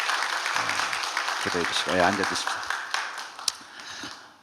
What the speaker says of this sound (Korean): 큰 박수로 격려해 주세요